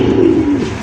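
A male blue bar exhibition pigeon gives a single short, low coo, close and clear.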